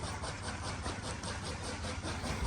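A farm tractor's diesel engine running, a steady rumbling drone with a rhythmic pulse that holds even throughout, close by and with no talk over it.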